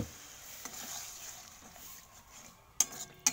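Crab curry masala being stirred in a pan, with faint sizzling under a few soft utensil scrapes and two sharp metallic clinks near the end, nearby and moderately quiet.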